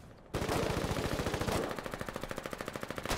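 Rapid automatic gunfire in a video game aimed at a scout tank, first a dense burst, then a steady rhythmic stream of evenly spaced shots, loud and close, with no voices.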